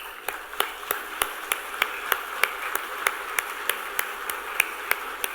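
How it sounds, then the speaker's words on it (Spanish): Audience clapping at a 2019 election campaign rally for Luis Lacalle Pou, a steady patter of individual hand claps from a modest crowd, sustained and fairly close. "Así que, querido señor presidente, para usted este aplauso."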